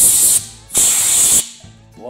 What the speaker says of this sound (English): I get a little bit of shop air.